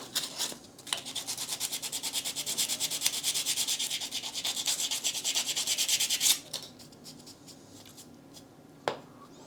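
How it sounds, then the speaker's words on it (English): Sandpaper rubs a small wooden lapstrake plank on a 1/35 scale model of an RMS Titanic lifeboat in quick, even back-and-forth strokes, close and bright, ending in a few light taps and one last scrape. "take a little bit of sandpaper, and I'm just going to just smooth this one"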